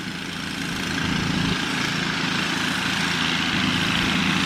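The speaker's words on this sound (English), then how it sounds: "Yeah, they're mowing." Lawn mowers run steadily nearby, a constant droning engine hum with no breaks and no talk over it.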